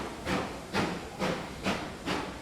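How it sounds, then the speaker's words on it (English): A steam train pulls out of a station in a video game, its chuffs coming as five evenly spaced hissing bursts, fairly close and clear, with no voices over them. "Past the sound of the train leaving the station behind us"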